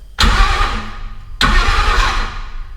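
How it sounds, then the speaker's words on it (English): A 1957 Ford Fairlane with a swapped-in Ford Coyote engine cranks twice on its starter, two loud, close bursts of grinding, churning engine noise without firing up, the second following after a brief gap. "Starter worked."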